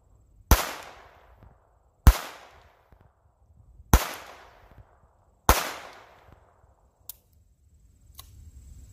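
A .22 rifle fires Thunderbolt rounds outdoors: four sharp, loud reports spaced about a second and a half apart, each trailing off in a short echo, followed by two much fainter distant pops.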